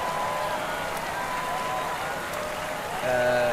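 Cheering spectators at a Giro stage in the cycling game Pro Cycling Manager 25 make a steady, dense roar that fills the whole stretch and swells slightly louder with a brighter tonal edge near the end.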